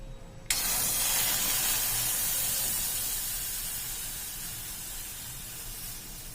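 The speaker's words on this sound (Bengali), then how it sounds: "এবার আমরা এই দুধটাকে দিয়ে দেবো কড়াইয়ের মধ্যে।" Milk poured into a hot wok of roasted semolina bursts into a loud, steady steaming hiss that starts abruptly and slowly fades over several seconds, with no talk.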